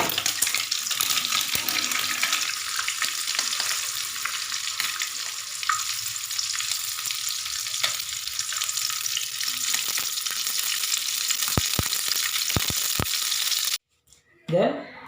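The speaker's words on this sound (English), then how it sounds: "we fry the eggs and the sausage" Eggs and sausage frying in a pan give a steady, loud broadband sizzle that runs nearly unbroken, with a few clinks near the end before it cuts off abruptly.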